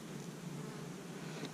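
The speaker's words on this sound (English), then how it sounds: "They're very gentle, very calm bees." Honey bees hum in a freshly opened hive of a newly installed colony, a steady, faint, low drone that holds evenly throughout with no voices.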